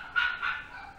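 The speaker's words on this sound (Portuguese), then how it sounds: "Desculpa o barulho do cachorro." Several dogs bark in short excited bursts, fairly close and loud, with yips trailing off as the barking continues throughout.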